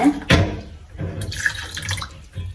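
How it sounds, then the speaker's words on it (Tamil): Water splashes and trickles into a pot of sugar in uneven pours while cooking Jaffna-style urad dal kali, with a clatter at the start and light kitchen noises. "கொஞ்சம் தண்ணி ஊற்றுறேன்"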